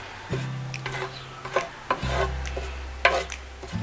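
Cinnamon and whole spices being stirred in a pan for pork red curry, giving a scraping, rubbing sound in irregular strokes, close and clear, with a low steady hum underneath and no talk.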